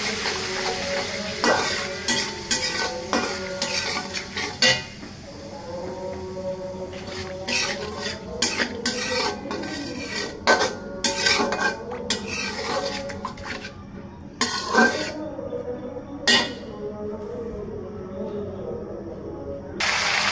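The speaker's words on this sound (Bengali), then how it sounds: "এখন এটাকে ভালোভাবে তেলে ভেজে নিতে হবে" Garlic and cumin paste frying in hot oil for a spicy village chicken curry, with steady sizzling and repeated clinks and scrapes of a spoon stirring against the pot, close and continuous with no talking.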